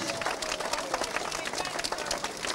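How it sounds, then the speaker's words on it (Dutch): Crowd applause at a live Dommelland event, honouring a rider during a cycling-themed presentation with a green sprint jersey; dense, steady clapping fills the clip, with some crowd noise mixed in. "Dries, als je mag, krijg je een applaus, Dries."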